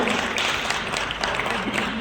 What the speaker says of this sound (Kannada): ದಯವಿಟ್ಟು ಎಲ್ಲರೂ ಚಪ್ಪಾಳೆಯ ಮುಖಾಂತರ ಈ ಒಂದು ಉದ್ಘಾಟನೆಯನ್ನು